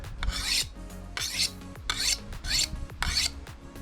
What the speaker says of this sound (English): Sharpen our blade.